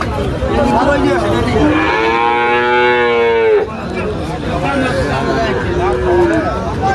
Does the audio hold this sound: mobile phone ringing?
no